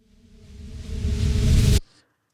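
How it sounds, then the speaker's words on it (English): A synthetic riser swells steadily louder and brighter for nearly two seconds, then cuts off abruptly, leaving a brief faint tail. "And then I got a rise, and that just sounds like this."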